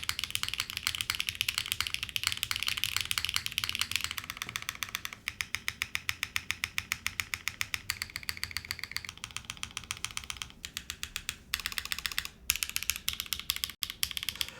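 Rapid, continuous typing on a Graystudio FRL 1800 mechanical keyboard, dense close-up key clacks in quick rhythmic bursts with a few louder, sharper strikes near the end.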